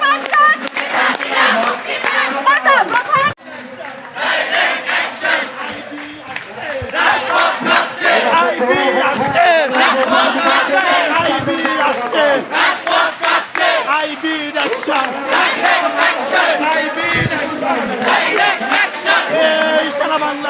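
Thousands of female students chant slogans during a street march against discrimination in Bangladesh, loud massed voices in rhythmic call-and-response that continue with barely a break.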